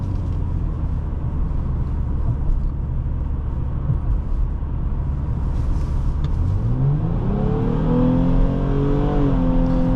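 A 2011 Nissan Maxima SV in sport mode holds a steady engine drone from inside the cabin, then the revs climb smoothly and the tone rises sharply toward the end as the car pulls hard.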